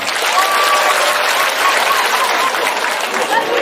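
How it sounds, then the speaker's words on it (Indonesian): Sustained applause from a large crowd at an Islamic boarding school (pondok pesantren) sermon event, greeting a pastor from Manado, dense and steady throughout with faint voices mixed in. "Tepuk tangan untuk pendeta Gilbert Lumindo."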